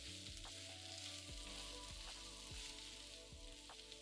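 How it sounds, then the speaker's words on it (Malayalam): Sliced ivy gourd fries in oil in a pan over a medium flame, a continuous close sizzle broken by several regular scraping stirs, with no voices. "ശേഷം 10 മിനിറ്റ് മീഡിയം ഫ്ലെയിമിൽ ഫ്രൈ ചെയ്യുക."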